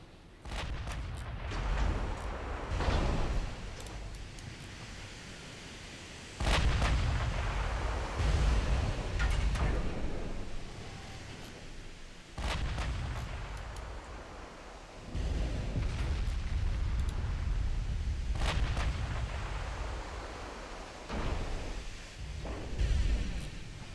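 Heavy naval gunfire and shell impacts in the Ultimate Admiral Dreadnoughts warship game, with repeated deep booming blasts and rumbling bursts over ocean-like wash, loud and continuous across the sequence.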